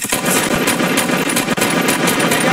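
Rapid automatic gunfire from the video game Fortnite rattles continuously at close range, loud and dense, with no talk over it.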